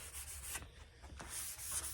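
Steady back-and-forth rubbing of sandpaper on wood, close and rhythmic, with short pauses between strokes.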